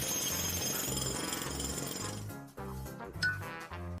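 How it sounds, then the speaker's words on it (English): A power drill whines in a harsh, steady burst from a played video for about two and a half seconds, then gives way to clinking, glassy hits and tonal music. "I gotta drill a little."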